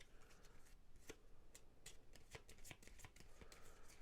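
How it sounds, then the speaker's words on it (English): Bonus cards for a board game being shuffled by hand at a table, a quick run of soft papery riffles and taps repeating over about four seconds, close and fairly quiet. "you take all of these bonus cards and you shuffle them up."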